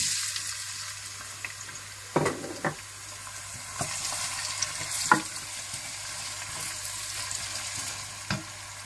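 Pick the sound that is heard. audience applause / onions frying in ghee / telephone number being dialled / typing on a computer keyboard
onions frying in ghee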